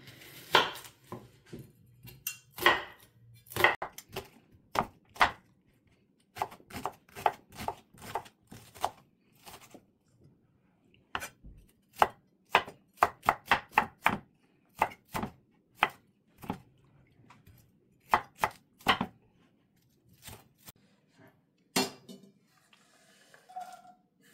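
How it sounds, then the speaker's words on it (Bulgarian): Onion being chopped with a knife on a board for Balkan moussaka, a long run of sharp close knocks in irregular bursts, sometimes quick and rapid, with quiet pauses between. "И започвам да режа най-напред лука."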